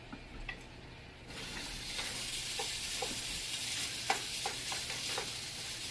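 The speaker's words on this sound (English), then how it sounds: "I'm going to go ahead and fry my bacon." Thick-cut bacon pieces frying in a pan, a steady bright sizzle with a few sharper spatters and occasional stirring taps, moderately close.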